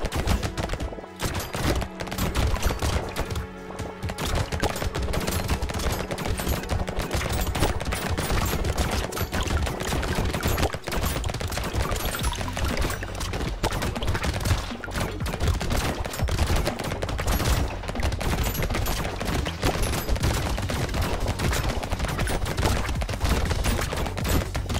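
Rapid, continuous SMG fire from the upgraded submachine gun in the Brotato video game crackles loud and dense for the whole stretch, layered over steady game music with no pauses.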